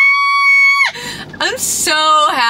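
A person in a car screams while driving, a loud sustained high-pitched scream that breaks off, followed by shorter shrieking vocal bursts, close and alone.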